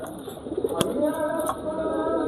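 Pigeons in a Rajshahi loft coo softly, with low rounded calls, while a couple of sharp clicks or wing flaps cut through a faint background.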